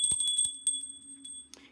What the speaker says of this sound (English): Ring the bell for Shivambu.